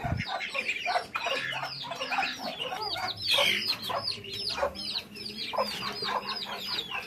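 Chickens cluck busily during feeding in a backyard, eating mixed feed of vegetable scraps, leftover rice and crushed eggshells; steady overlapping clucks and calls from several birds, fairly close, with no talking.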